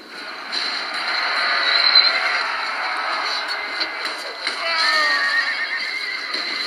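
Horses neigh and whinny loudly during a cavalry charge in the Rome: Total War video game, layered over a dense clamor of battle with overlapping calls throughout.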